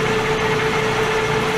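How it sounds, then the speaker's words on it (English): A drill bores into a brass nut being prepared for four-start threads, giving a steady, close mechanical whir with a constant tonal hum and no breaks. "the fact that we're drilling into brass"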